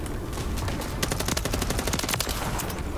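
Gunfire in an online multiplayer shooter video game: loud, rapid, overlapping shots crackle continuously through the moment over a dense background of game noise.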